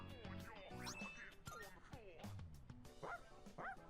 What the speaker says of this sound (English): But he's such a cute dog.